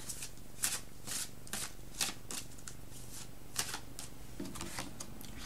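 Tarot cards being shuffled by hand, a quiet, close series of crisp riffling bursts repeating every half second or so, with a soft low hum underneath.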